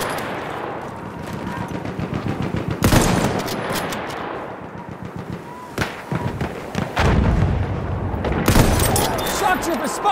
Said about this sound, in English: Machine gun, look at that.